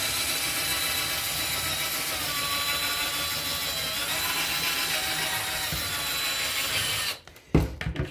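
A drill spins a VViVid headlight restoration pad in a steady, continuous whir with a faint rubbing texture, then cuts off abruptly near the end, leaving a few brief handling clatters.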